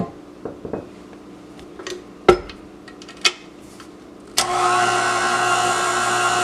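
A few clinks and knocks of a bowl and utensils come first. Then an electric mixer starts up with a loud, steady whirring drone as it mixes blueberry muffin batter.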